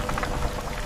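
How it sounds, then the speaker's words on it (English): Rain begins with a brief wash of dense, even patter on surfaces, close and steady. "Rain is starting."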